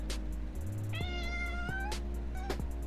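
A single clear cat meow rises and falls over a low steady background hum, close by, with faint clicks around it.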